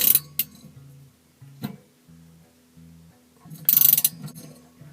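A spanner tightens the motor nut on a fan oven, giving a series of close metallic ratcheting clicks and short grinding turns in separate bursts, with a couple of sharper clinks.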